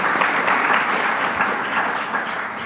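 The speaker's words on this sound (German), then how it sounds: "Dafür würde ich tatsächlich einen kurzen Applaus" Steady audience applause at a public lecture, a dense even patter of clapping held at constant strength for a few seconds with no voices over it.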